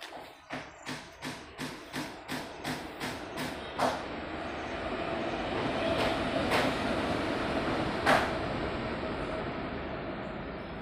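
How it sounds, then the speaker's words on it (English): A train passes near a residential plot in Yelahanka, opening with a rapid regular clatter of wheels over rail joints that gives way to a sustained loud rumble, with sharp squealing bursts mid-pass. "So just train passed."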